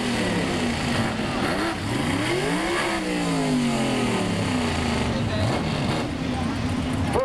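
A Ford drag racing car revs hard at a 1985 IHRA Summer Nationals modified event, its engine pitch rising and falling through loud gear-change sweeps, with an announcer talking over it.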